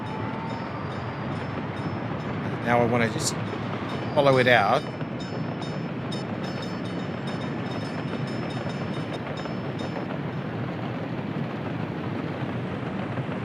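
A full train rolls past in the city-building game Workers & Resources, a steady low rail rumble running throughout with someone talking briefly over it near the start.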